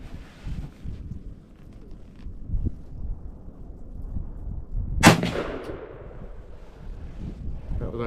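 A 20 gauge shotgun fires a Winchester Longbeard XR turkey load with 5-shot outdoors, one loud blast that rolls off in a long echo, set against wind noise and low background rumble.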